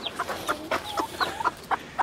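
Small Serama chicken clucking up close, a quick run of short, bright clucks and chirps in an uneven rhythm, fairly soft, no voices.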